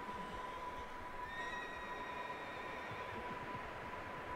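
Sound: spooked horse neighing in Red Dead Redemption 2 video game

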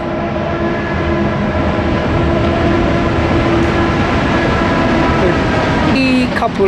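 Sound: train passing

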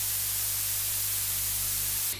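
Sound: white noise output from DIY CMOS drum machine module

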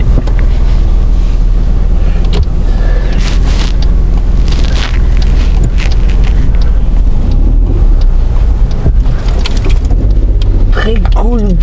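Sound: Hyundai i10 three-cylinder car engine while driving

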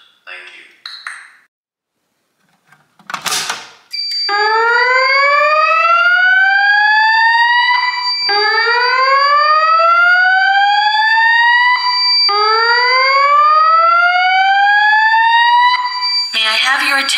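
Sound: Notifier voice evac fire alarm signal in garage test

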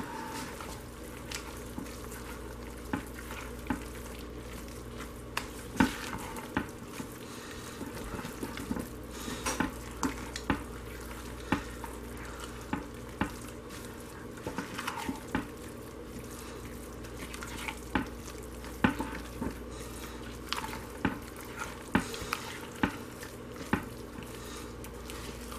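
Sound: hard butters melting while stirred for hot process soap

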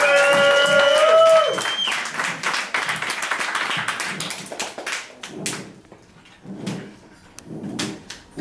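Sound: audience clapping

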